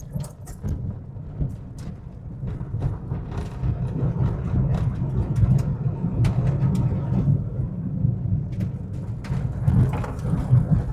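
Hyundai i10 2015 car on an off-road test drive, a steady loud rumble of engine and tyres over rough ground with scattered knocks and rattles throughout.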